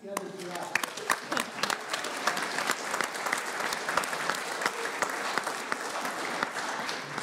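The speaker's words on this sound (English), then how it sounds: "For the members of the Planning Committee, will you please stand for a round of applause?" A seated audience at a college business event stands and applauds the Planning Committee, steady broadband clapping with many sharp individual claps, moderately loud and sustained throughout, with faint voices underneath.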